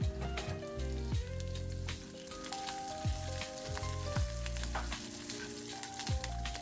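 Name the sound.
curry leaves and green chillies added to sizzling fried onions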